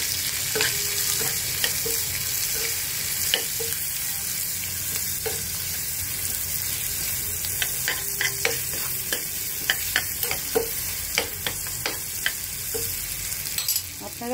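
Ingredients for a prawn fry stirred in hot oil in a pan, making a continuous sizzle under sharp clinks and scrapes of the spatula, near and with no talking.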